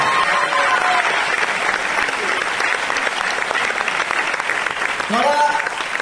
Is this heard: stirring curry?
no